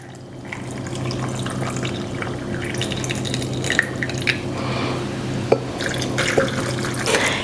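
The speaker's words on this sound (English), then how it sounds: "And then we'll just top them off with water." Water runs into pint canning jars packed three quarters full with black beans and salt, a steady splashing, trickling flow close by with a low background hum and a few sharp clinks against glass.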